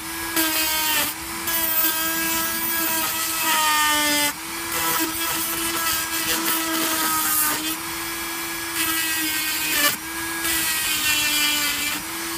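A grinding wheel works on a geode, a loud sustained whine with a steady tone that cuts off briefly and restarts several times as the stone is pressed and lifted.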